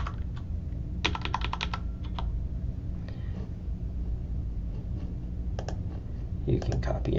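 Keys clack on a computer keyboard while typing in a text editor, irregular bursts of close, crisp clicks with short pauses, under a quiet voice.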